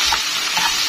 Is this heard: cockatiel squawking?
no